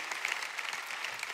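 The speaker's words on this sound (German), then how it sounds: "Lass Gott einen Applaus geben oder Luft drüber." Church congregation applauding, a brief, dense wash of clapping at steady moderate loudness with no voices on top.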